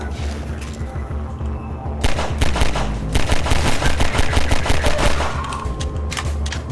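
Loud, close bursts of automatic gunfire from the first-person shooter Half-Life 2, played on Linux, rattle in rapid, sustained volleys with booming impacts and short pauses between strings of shots.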